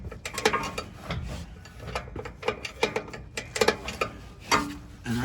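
A brake adjuster wheel on the rear drum brakes of a 1986 Ford F150 being turned back and forth, giving close, irregular ratcheting clicks and mechanical scrapes in bursts with no talk.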